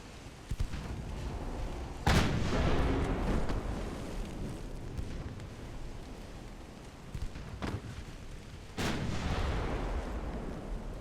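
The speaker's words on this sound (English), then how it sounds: "Then of course we've got the aft guns here that are now able to fire." Warship aft guns firing in the naval game Ultimate Admiral Dreadnoughts, heavy booming salvos with a few loud blasts, the biggest early and near the end, over a continuous rumbling battle din.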